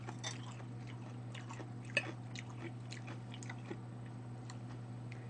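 Someone chews food during a Korean home-cooked mukbang meal of seasoned bellflower root and squid salad, potato soup and zucchini pancakes, with close, soft, wet chewing and a scattering of small clicks and one sharper bite.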